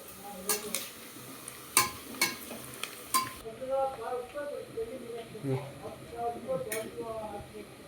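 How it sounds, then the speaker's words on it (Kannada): Onions fry in a pan for chicken biryani, giving a soft steady sizzle under sharp clinks of a spoon stirring against the metal, heard up close. "ಈ ಥರ ಉಳ್ಳಾಗಡ್ಡೆ ಏನಾಗತ್ತೈತೆ ಅಂದ್ರೆ ಈರುಳ್ಳಿ ಇನ್ನೇನು ನಾವು ಅಂದ್ಕೊಂಡಿರೋ ಥರ ಅದು ಬೇಯಿಸ್ಬೇಕು"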